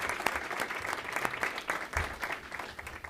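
Audience at a county commissioners staff meeting giving a round of applause, brisk scattered clapping from a modest group, steady and moderately close for a few seconds.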